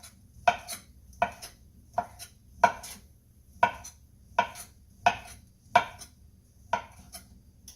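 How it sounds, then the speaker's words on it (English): A sharp knife slices through sausage on a cutting board, about ten crisp, evenly spaced chops that land close and clear against a quiet kitchen background. "a sharp knife works so much better"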